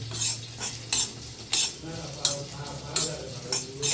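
Flattened rice (chira) frying in ghee, with a steady soft sizzle beneath repeated sharp scrapes and clinks of a spoon stirring against the pan at roughly half-second intervals, close and clear, no talking.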